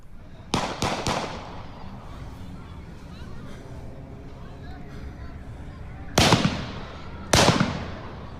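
Gunshots fired outdoors at a vigil: a quick burst of three sharp cracks, then two more loud separate shots several seconds later, with murmuring voices of a crowd in between.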